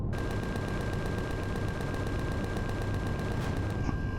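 Sustained rapid gunfire from a video game battle in Empyrion, weapons firing continuously at attacking drones, loud and dense throughout with rhythmic bursts and no talking.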